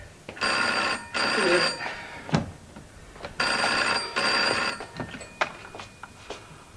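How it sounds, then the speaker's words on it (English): An old 1980s household telephone bell rings in two double bursts, loud, metallic and close, with brief knocks and movement sounds in the gaps, and a voice briefly heard between rings. "Phone."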